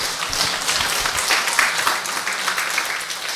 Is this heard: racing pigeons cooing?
no